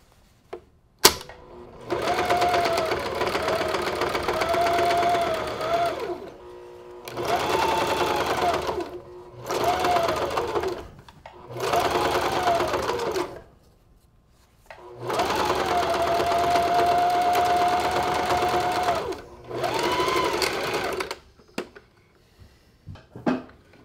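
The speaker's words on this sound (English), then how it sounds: "As you can see, I'm not the most gentle when it comes to sewing." A sewing machine stitches leftover scrap fabric for a collage, running in several steady bursts of a few seconds each, separated by short pauses and a few soft handling clicks.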